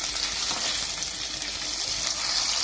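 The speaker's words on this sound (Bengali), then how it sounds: "পাতুরিগুলো ছেড়ে দেওয়া হলো। এগুলো একটু করে ভেজে নিতে হবে।" Paneer paturi wrapped in banana leaf fries in a pan with a loud, continuous sizzle and crackle of hot oil, steady throughout with no talking.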